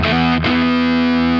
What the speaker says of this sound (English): It definitely sounds like a fuzz